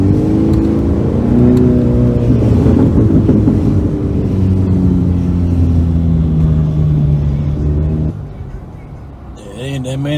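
Car engine with a burble tune running steadily with throttle blips, loud and close with harmonic drone, dropping lower near the end before a brief rise; wind noise across the microphone.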